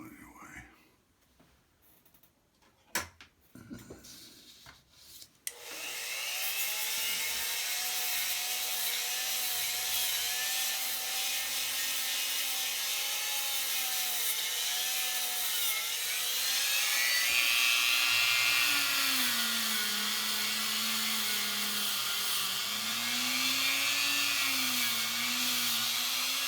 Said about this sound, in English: I just use a Dremel tool with a little plastic brush.